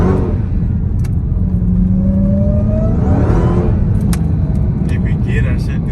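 A Dodge Hellcat fitted with a JLT intake revs and accelerates close by, its engine note rising in loud, sweeping pulls with a deep rumble underneath, while voices talk over it.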